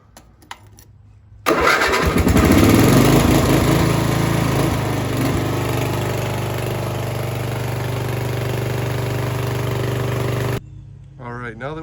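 A lawn mower engine catches after choking and settles into a loud, steady run for about nine seconds, then cuts off, with brief talk before and after.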